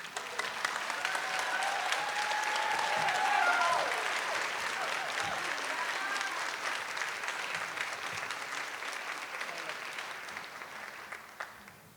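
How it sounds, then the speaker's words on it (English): An audience at a girls' academy annual celebration breaks into loud, sustained applause. The dense clapping swells early and then tapers slightly, staying strong to the end, with some crowd cheering mixed in. "I'm sorry, but I don't think that applause was loud enough for Fernanda and Yesli."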